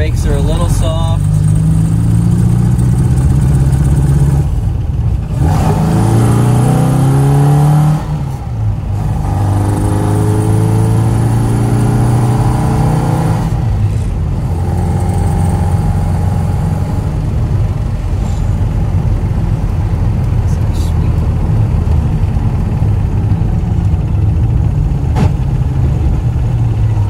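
A 1975 Innocenti Mini Cooper 1300's engine hums and revs steadily while driving, the pitch climbing and dropping with gear changes, loud and close throughout.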